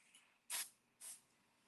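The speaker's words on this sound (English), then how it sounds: "I'm just hitting it with some pixie spray, just a little bit." Two short bursts of pixie spray from an aerosol can are applied lightly while crafting with holly, embossing powder and shimmer. Each is a close, crisp hiss, the first slightly longer, with a quiet pause between them.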